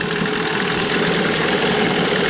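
A Hangkai 9.8 outboard motor runs in a test barrel during break-in, giving a steady, close, loud engine drone with a slight knocking texture. No one speaks.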